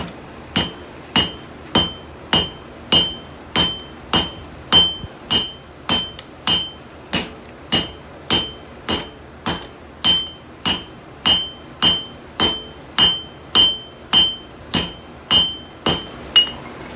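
A hand hammer strikes a canister Damascus forge weld fresh from a coal forge, with loud, ringing metallic blows in a steady rhythm of about two per second, close and alone.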